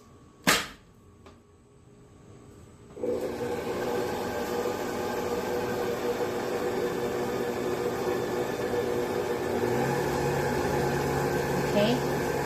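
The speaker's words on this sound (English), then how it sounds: "Then I'm gonna start mixing it in medium high." A sharp click comes first, then an electric mixer starts up on medium high and whirs steadily through banana bread batter with eggs, a loud constant motor drone that shifts slightly in pitch near the end.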